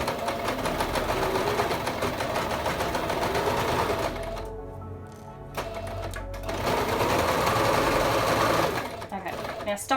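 A sewing machine stitches a fabric face mask in a steady rapid rattle, pausing briefly then resuming with a short back-stitch, close and loud under a speaking voice.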